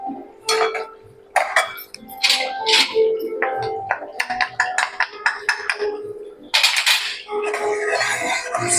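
Ladoo mixture with cardamom powder being stirred in a pan, producing repeated close metallic clinks and scrapes of a spoon against the pan in an uneven rhythm, with no talk.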